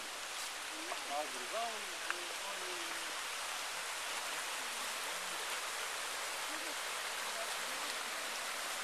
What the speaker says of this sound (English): Here's the river, the only river close to Philippi.